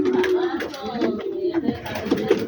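Racing pigeons on a farm coo softly and repeatedly close by, mixed with quiet background chatter.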